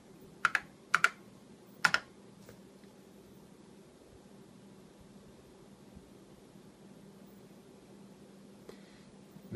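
A few quick keystrokes on an Apple II keyboard, crisp and close, then a long stretch of faint steady hiss with no further typing.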